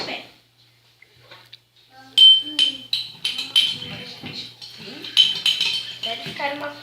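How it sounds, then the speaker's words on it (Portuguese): A spoon stirs water and sugar in a mug for a microwave pudding caramel, with a run of close, irregular clinks and scrapes against the mug and a voice speaking at times. "E você vai mexer bem."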